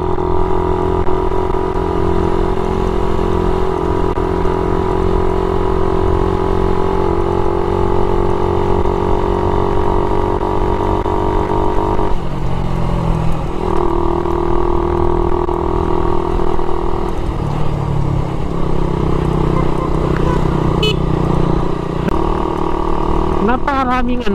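A Suzuki Raider 150 Fi motorcycle engine drones steadily and loudly throughout while riding uphill on Marilaque, its pitch dipping and shifting as if straining under load, with a voice talking over it.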